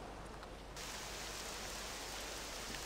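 Rain falls in the video game Octopath Traveler 2 as a dense, steady hiss of rainfall, very faint and even, heard alone across the short stretch.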